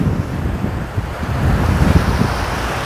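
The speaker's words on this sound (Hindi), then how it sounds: "ये दरिया स्वात है" The Swat River flows through Swat Valley, its rushing water making a steady, broad roar that fills the clip with no voices.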